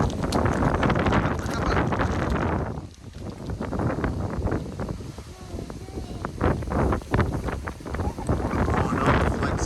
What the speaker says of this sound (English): Now here comes the wind.